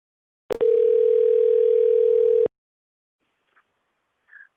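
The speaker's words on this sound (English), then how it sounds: "let's go ahead and get Keith on the phone" A single steady telephone tone sounds loud and alone for about two seconds, then cuts off, followed by faint brief noises.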